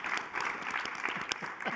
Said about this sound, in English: I think she deserves a round of applause for that